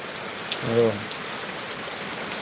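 Very heavy rain pours down on a village near Rajula in a dense, unbroken roar, with a short tonal sound rising briefly above it early on.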